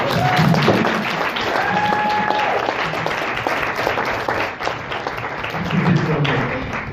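An audience at a mentoring session gives a woman a big round of applause, with steady, dense clapping filling the room, some cheering tones mixed in, and a voice heard briefly over it.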